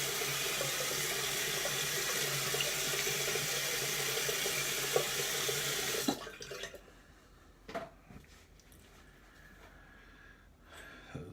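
Water runs from a tap into a sink during a shave for about six seconds, then stops, leaving faint splashes and drips in a quiet room.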